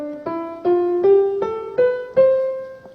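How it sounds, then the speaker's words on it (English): Eight clear tonal notes climb step by step in an even rhythm, an ascending major scale played alone, each note struck and ringing briefly. "our ordinary major scale, which is some half tones and some whole tones."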